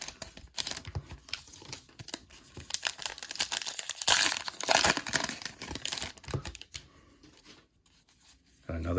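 Rapid crinkling and tearing of foil trading card packs from 2024 and 2025 Heritage mega boxes being ripped open one after another, close up, with rustling card handling and a brief voice between rips.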